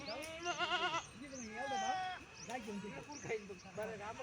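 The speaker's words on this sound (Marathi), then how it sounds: "हे बघा मेंढ्या बसवलेल्या आहेत" Several sheep bleat repeatedly in a farm field, wavering nasal cries overlapping one another, with a person talking in between.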